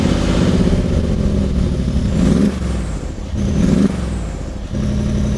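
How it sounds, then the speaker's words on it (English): A deep, loud twin-turbo V8 exhaust from a 2018 Mercedes G63 AMG rumbles and revs in repeated surges, heard up close with no voices. "your ears are constantly enveloped in the awesome sound of the V8"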